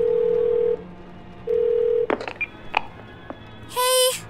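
Phone dialing tones in the video game 12 Minutes: two long steady tones, then a quick cluster of short key beeps, and a final bright ringing tone, loud and clean with no talk over them.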